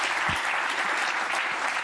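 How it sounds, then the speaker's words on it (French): Studio audience applause on a French television talk show, a dense, steady wash of many hands clapping close by, with a couple of brief low thumps mixed in and no speech. "Applaudissez Yann, bien."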